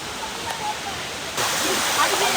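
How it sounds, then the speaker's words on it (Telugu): Water pours down the small secret waterfall near Ella, Sri Lanka, running at low flow as a steady broadband rush outdoors that grows louder partway through. "ఇదే సీక్రెట్ వాటర్ ఫాల్స్."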